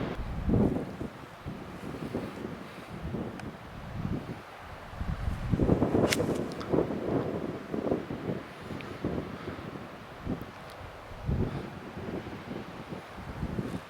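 Gusty wind on a golf course in Scotland, a loud rumbling buffet against the microphone that swells and eases in waves, with faint rustling underneath and no speech.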